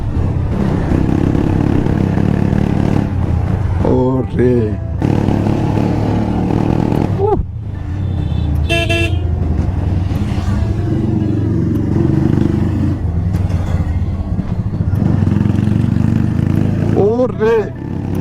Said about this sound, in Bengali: আপনারা জাস্ট একটু এক্সজস্টের মজা নেন